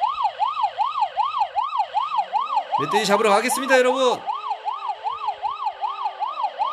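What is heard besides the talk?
police siren in 3D Driving Class video game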